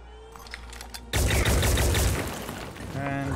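Gunfire aimed at an enemy's legs in Phoenix Point: after a quieter lead-in, a sudden dense, sustained volley of shots erupts and stays loud to the end.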